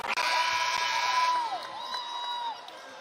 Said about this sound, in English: San Diego State, pretty boisterous crowd here late on Thanksgiving Eve. Making sure their voices are heard.